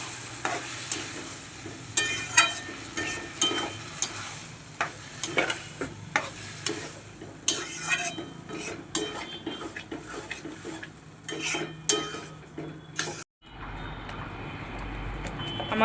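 Chickpea dal curry with egg is sautéed and stirred in a pan, with loud repeated scraping of a utensil against the metal over a continuous sizzle, ending abruptly.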